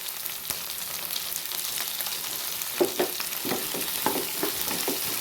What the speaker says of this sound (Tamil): வெங்காயம் கொஞ்சம் வணங்கட்டும்